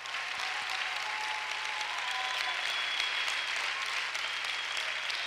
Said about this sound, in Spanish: ¿Alguien puede aplaudir fuerte a nuestro rey?